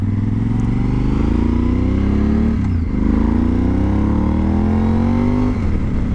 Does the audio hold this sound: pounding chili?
no